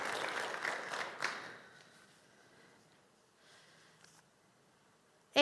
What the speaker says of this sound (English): If you want to clap, you can clap.